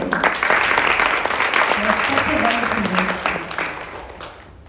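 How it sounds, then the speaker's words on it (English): Concert audience applauding in a sustained burst of clapping that fills the room, fading gradually toward the end. "Please, a big round of applause for Vishnu"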